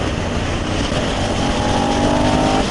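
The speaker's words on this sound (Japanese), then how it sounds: "高回転型の V 型エンジンですね。" A Suzuki SV650 V-twin motorcycle engine accelerates loudly and close up, with a rising, steady engine tone heard from the rider's position, mixed with wind rush.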